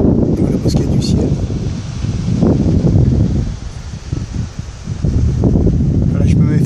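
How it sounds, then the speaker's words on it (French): Gusty coastal wind at a western port on Réunion, roaring steadily against the microphone with swelling gusts and a brief lull midway, loud and close throughout. "je me mets face au vent avec ces petites rafales"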